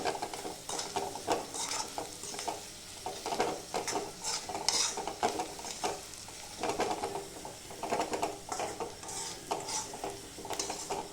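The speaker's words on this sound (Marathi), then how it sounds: "आता हे चांगलं एकत्र करून घ्यायचं" Tomato chutney seasoned with salt and turmeric is stirred in a pan, giving steady scraping and clinking of a spoon against metal over a soft sizzle, continuous and close.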